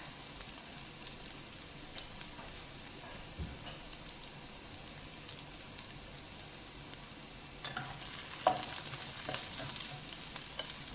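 Pork sizzles in a pan with garlic and onion, a steady close crackle and hiss running throughout, a few sharp pops and light utensil clinks breaking in, and the frying growing slightly louder toward the end, with no talking.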